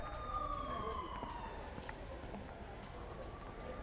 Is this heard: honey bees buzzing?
no